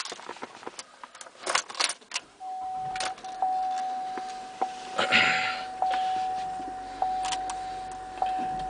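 A 2008 GMC Acadia SLT is started: keys jangle close by, then the engine turns over and settles into a steady idle with a faint whine, while a few light clicks sound inside the cabin.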